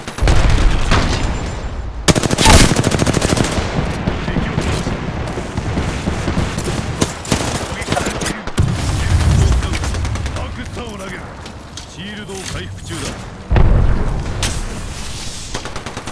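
Smart bullet gunfire in the video game Apex Legends: loud bursts of rapid shots and sharp impacts in several clusters, with brief pauses between volleys and game voice lines heard intermittently.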